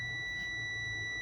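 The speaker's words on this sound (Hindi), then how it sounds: "ये बीप दे रहा है, आप जैसा कि सुन सकते हैं यहाँ पर बीप दे रहा है।" A multimeter gives one continuous, steady high beep while checking continuity across an oxygen sensor's heater element. The tone is clear and unbroken throughout.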